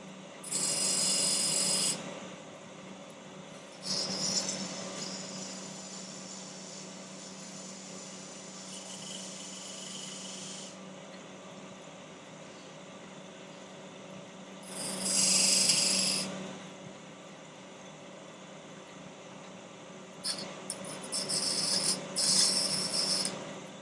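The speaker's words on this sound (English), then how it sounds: "This is a spindle gouge" A 9/16 spindle gouge cuts into spinning wood on a lathe at a turning demonstration, giving loud rasping bursts of shaving between quieter stretches of steady motor whir, with no voices.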